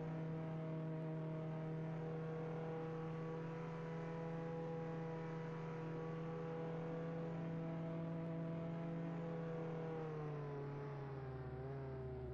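Classic car engine in a video game, a steady droning hum with strong harmonic tones that holds evenly and then drops slightly in pitch near the end, with no talk.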